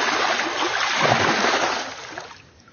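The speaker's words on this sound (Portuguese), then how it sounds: "Vou bater a água." A hand slaps the water of a reservoir, giving a broad, close splashing wash that peaks in the middle and then fades away.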